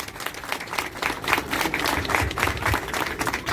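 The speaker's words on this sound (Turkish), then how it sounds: "Hadi kuvvetli bir alkış alayım şimdi sizlerden gelin ve damarım için." Wedding guests at a theatrical civil marriage ceremony applaud the bride and groom, the clapping starting lighter and swelling into a fuller, sustained round of applause.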